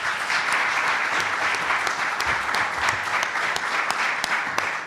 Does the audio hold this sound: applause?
yes